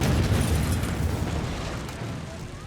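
Warehouses exploding in fire during the Great Fire of London: a loud, sustained deep rumbling roar with crackling bursts, fading slightly over a few seconds.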